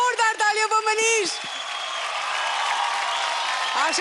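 Applause from a television studio audience after a singing performance, a steady wash of clapping that rises as a voice finishes speaking and continues on its own to the end.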